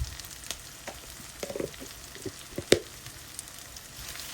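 Chicken malai curry fries with spices in a pan, a low steady sizzle broken by occasional scraping and a sharper clink of a spoon.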